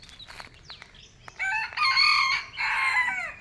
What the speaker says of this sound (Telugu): చూడండి కోళ్ళు ఎలా అరుస్తాయో